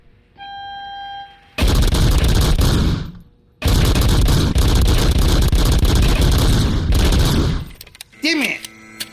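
Rapid automatic pistol fire in the video game RoboCop Rogue City, two long loud sustained bursts of close gunfire separated by a brief pause, then a short tail of game sounds.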